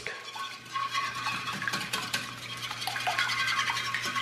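A fork beats eggs in a bowl for French toast, giving a steady, fast scraping and clinking rhythm of metal against the bowl, close and fairly loud throughout with no talking.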